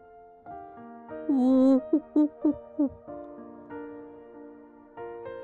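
An owl hoots in a short series of four or five clear, rounded calls over soft, sustained background music, fairly close and prominent.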